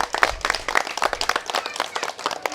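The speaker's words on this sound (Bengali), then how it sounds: "আগে নিজেদের জন্য হাততালি দিন আর যারা একদম লাইনে দাঁড়িয়ে আছেন তাদের বলবো এনাদের জন্য একটা জোরে হাততালি দিতে" A crowd at a Ganesh puja celebration claps for the puja committee, with dense, uneven rhythmic hand claps close by and a few murmurs mixed in at moderate loudness.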